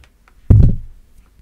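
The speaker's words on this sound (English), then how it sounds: "I bumped the microphone" One sudden, loud bump of a microphone gives a short muffled thud that quickly decays, with near silence before and after.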